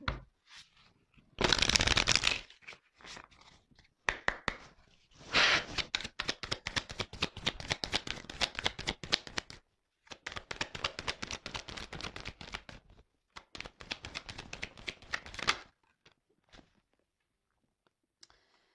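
Tarot cards are shuffled and drawn in rapid bursts of crisp riffling and flicking, close and fairly loud, broken by brief pauses between rounds.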